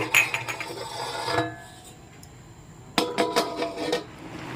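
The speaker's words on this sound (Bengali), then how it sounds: "এবার আমি একটা ঢাকনা দিয়ে ঢেকে দিচ্ছি" A metal lid set down over a cooking pot of banana flower boiling with turmeric, giving a cluster of clanks and rattles, then a quieter pause before a second burst of close metallic clatter.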